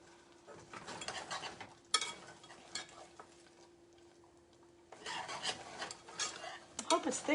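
A spoon scraping and scooping thick keto caramel no-bake cookie mixture from a pot, making close, repeated metallic scrapes in two bursts with a quieter pause between, and a steady low hum in the background.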